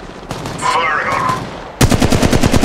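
Machine gun fire in the mobile game Apex Legends Mobile, a loud, rapid burst of close shots arriving after a short lead-in of game noise.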